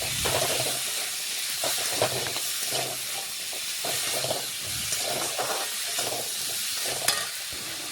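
Turmeric, chili powder and salt are stirred into hot tempering oil in a pan, producing a hissing sizzle broken by a rhythmic series of spatula scrapes and knocks, close and unaccompanied by talk.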